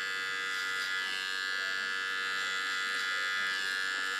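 Electric hair clippers cutting hair clipper-over-comb on a short straight bob: a steady close buzzing hum running continuously, with no talk.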